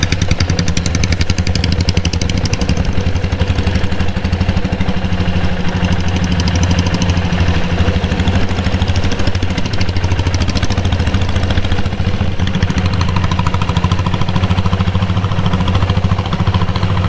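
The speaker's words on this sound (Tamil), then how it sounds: "ஈரோடு சிட்டிக்குள்ளே 2 டீசல் புல்லட் போகுது" Diesel Royal Enfield Bullet motorcycle engine thumps along in a continuous loud, rapid knocking beat, close and steady throughout, riding through Erode city with no talk over it.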